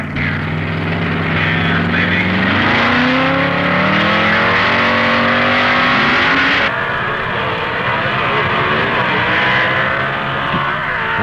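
Drag racing cars, among them a 1955 Chevy C-modified production car, launch and accelerate down the strip together, a loud, sustained engine roar with rising gear-sweeping pitch, a sudden shift midway, close and dominant.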